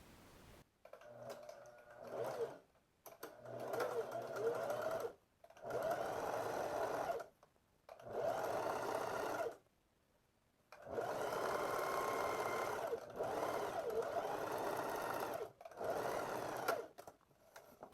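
A sewing machine stitches a 1 cm seam on the wrong side of pleated shorts, running in steady bursts of whirring that stop and restart several times, with brief quiet pauses between runs.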